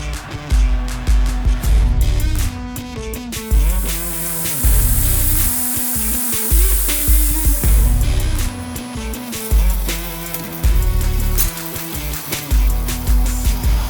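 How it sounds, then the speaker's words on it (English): A milling machine cuts bronze for a chef's knife blade in a workshop, giving a loud continuous grinding, chattering roar with steady rhythmic pulses and a harsh high hiss partway through. "all the sound you hear is Dad running the milling machine over here, milling out some bronze for a chef's knife."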